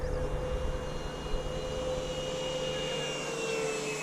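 A small aircraft without a rudder flies continuous figure eights, its steady engine drone holding at an even level with a constant tonal hum throughout, no voices.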